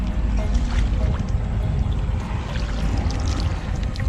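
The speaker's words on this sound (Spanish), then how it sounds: "Vamos a ver acá que se hace una pequeña cascada, un rebalse." A small waterfall where water overflows at an outdoor fishing and camping spot: steady, dense rushing and splashing, loud and close, continuous across the whole moment with no pauses.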